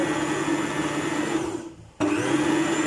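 A SEKAI MX 686 B stand mixer motor whirs loudly at high speed, dips briefly as if paused, then resumes its steady drone.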